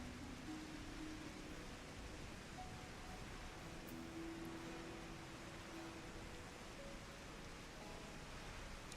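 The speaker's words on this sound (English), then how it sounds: "I'll leave you with the amazing sounds of the rain." Soft, steady rain hiss, faint and even throughout, with a few quiet tonal hums in the background and no talking.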